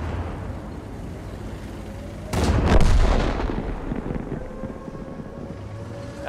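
A tank gun fires in World of Tanks with a single loud, sharp blast that rolls into a long rumbling decay over steady background wind-like ambience.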